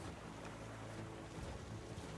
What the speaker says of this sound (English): Why are the waves rolling so much?